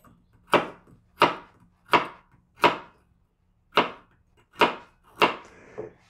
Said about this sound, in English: we need to slice these bad boys into thin slices